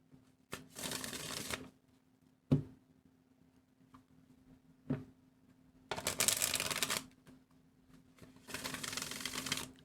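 Oracle cards being shuffled at a tarot reading table, three bursts of riffling and flicking separated by a couple of soft taps, close and fairly quiet with no talking.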